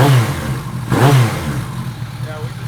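A motorcycle engine revs in the shop, with low steady exhaust rumble and a throttle blip surging about a second in, then settling back to a running idle, loud and close.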